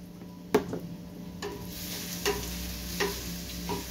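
Onions frying in a pan for a Peruvian pork picaña recipe, with a low steady sizzle broken by a few sharp clicks and scrapes from stirring.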